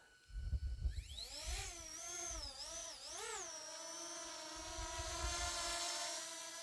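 The motors of a Fimi X8 Mini drone spin up at takeoff into a loud, high, whining hum that rises and wavers in pitch, then settles into a steady drone, close by.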